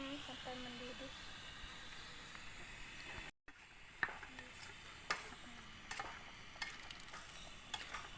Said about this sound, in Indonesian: Berarti ini sampai mendidih gitu ya